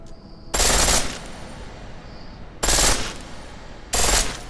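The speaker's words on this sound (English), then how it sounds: "The pistol in full auto will take down targets fast, but it'll burn through your ammo" Pistol set to full auto in Deus Ex: Mankind Divided, firing three loud bursts of rapid shots, each about half a second long, separated by short pauses with a faint tonal hum between them.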